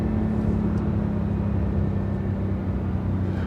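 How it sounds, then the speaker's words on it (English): A BMW E92 M3 engine runs steadily at idle with a deep, even drone, close and moderately loud, with no voices over it. "But this car, just listen to that engine."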